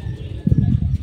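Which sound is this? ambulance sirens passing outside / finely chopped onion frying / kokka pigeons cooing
kokka pigeons cooing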